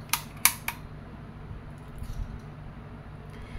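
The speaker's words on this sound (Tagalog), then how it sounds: "lagyan lang natin siya ng bala ulit" A Crosman 2240 bolt-action CO2 airgun being loaded with a pellet makes three quick, sharp metallic clicks close up, followed by quieter faint handling rustle.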